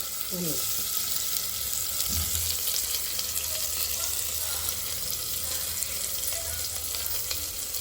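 Onion and green chilli sauté in a pan for peas pulao, giving a continuous, even frying hiss throughout. A brief faint voice and a soft low clatter sound near the start.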